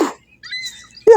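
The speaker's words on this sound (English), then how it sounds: "hear all the birds, see them all" Birds chirping outdoors during a spring walk: thin, high tonal calls and short tweets, moderately close, with a couple of louder bursts at the start and end and quiet gaps between.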